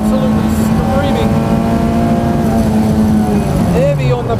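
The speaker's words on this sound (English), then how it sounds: "Letting her rev all the way up. The Escort is absolutely screaming." Ford Escort rally car at full throttle on a tarmac rallysprint drag strip, engine screaming in a steady high-pitched drone that climbs through the revs, loud and close, with commentary talk running over it.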